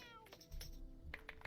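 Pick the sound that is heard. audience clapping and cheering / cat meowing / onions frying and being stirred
cat meowing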